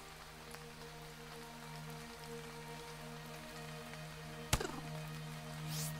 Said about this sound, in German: auf dem Planeten gab es ja auch noch giftigen Regen